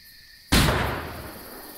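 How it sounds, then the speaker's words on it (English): A pistol-type gun fired once at a tin can in the KeepUp Survival video game, a sudden sharp bang after near silence, followed by a long fading boom and ring-out. "Shoot a tin can."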